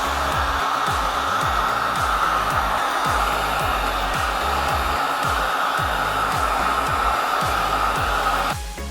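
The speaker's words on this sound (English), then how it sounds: "What I'd also recommend is getting yourself a heat gun." A heat gun blows a loud, steady airflow with a constant whine as it warms the decals and plastic panel of a KTM 690 SMC R motorcycle, running unbroken for the whole stretch.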